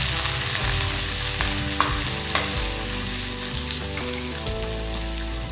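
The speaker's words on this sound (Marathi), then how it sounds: "हिरवी मिरची छान अशी झाली की त्यामध्ये आपण कांदा टाकूया" Onion and green chillies sautéing in a pan, a loud, steady close sizzle with a couple of sharp spatula taps and crackles.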